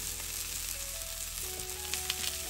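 Eggplant and tomato fry in a pan with large garlic cloves for a mashed bharta, giving a steady, soft, close-up sizzle with no one talking.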